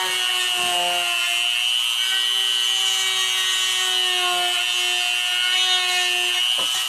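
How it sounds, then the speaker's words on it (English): A Dremel rotary tool grinds a resin piece while shaping an eye socket at an angle for installing eyes, its high steady whine running close and continuous with slight scraping variations throughout. "So I have to Dremel this, make sure I catch the right angle on it."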